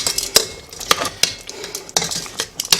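Clatter of a utensil against a pan as chicken adobo is flipped and moved around, with sharp scraping clicks and taps at an irregular pace, close and fairly loud, no talking.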